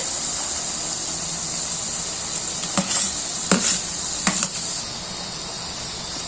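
Dry fish curry sizzles in a pan as tomatoes go in: a steady, close hiss of frying with a few soft clatters and stirring knocks partway through.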